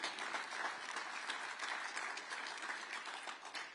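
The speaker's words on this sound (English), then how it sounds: "You can clap for that." Steady, faint applause from an audience at an Iowa political summit on renewable fuels, a continuous wash of many hands clapping heard from a distance without speech.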